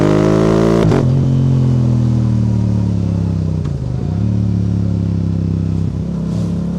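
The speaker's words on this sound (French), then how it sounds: "Quand ça pète les rapports comme ça," A Yamaha R7 motorcycle engine revs loud and close in a continuous high-pitched drone, broken by sharp quickshifter gear-change pops near the start and twice more later.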